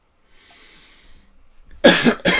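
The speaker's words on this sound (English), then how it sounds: "coughing so much" A person coughs sharply twice close to the microphone, loud harsh bursts following a stretch of quiet breathy room noise.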